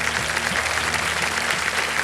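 A studio audience on the KBC quiz show claps loudly and continuously, a thick wash of hands with low music tones humming beneath.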